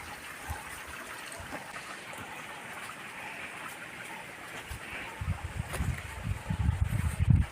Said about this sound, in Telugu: నీళ్ళు వెళ్తూ ఉన్నాయి చూడండి